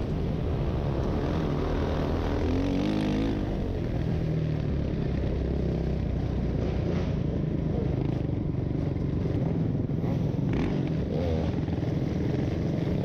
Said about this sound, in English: So this is the first time the kart actually ran.